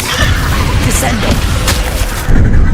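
A Descendo spell slams a foe down during Hogwarts Legacy combat, a thudding, crashing impact amid constant booming battle clatter, swelling louder near the end.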